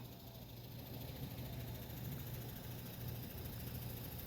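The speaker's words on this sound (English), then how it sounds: "Sorry about the noise of the air conditioner" A steady air conditioner drones near a raised vegetable garden, a faint, even broadband hiss with a low hum running throughout, with no voices.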